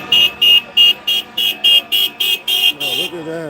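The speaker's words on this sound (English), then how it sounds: "Honk, honk, honk. So much honking." Car horns honking at a street protest in Saint Paul: about ten evenly spaced, loud, close toots in quick succession, then a lower tonal drone as the honking stops.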